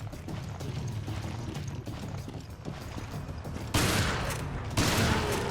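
Shotgun blasts in Resident Evil Revelations Raid Mode, loud booming shots with mechanical pump and reload clatter, two heavy broadband bursts near the end over continuous game noise.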